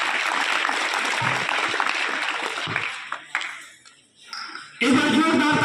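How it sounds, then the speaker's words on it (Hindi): Audience applause at a school prize ceremony, a loud wash of clapping that fades and thins into scattered claps and brief quiet, then surges back abruptly at full strength. "जोरदार तालियों से अभिनंदन करें भैया को।"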